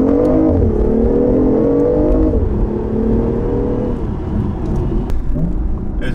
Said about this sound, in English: listen to this down change now